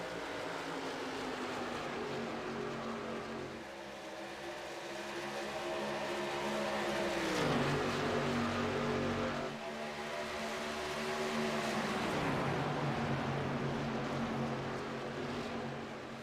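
Pack of racing trucks running close together on track, a sustained layered engine drone that swells and dips as the pack passes, with pitch falling twice as the trucks sweep by.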